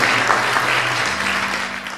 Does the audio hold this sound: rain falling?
no